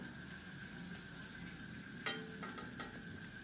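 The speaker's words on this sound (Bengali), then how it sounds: "গরম তেলে লাল লাল করে ভেজে নেব" Small chanda fish, coated in turmeric, fry in hot oil with a soft, steady sizzle, and a few sharp spatters and clicks come near the end.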